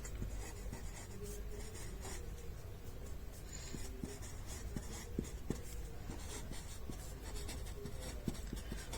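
Pen or pencil scratching steadily across paper during a math lesson, continuous close scribbling strokes with small taps, no talk over it.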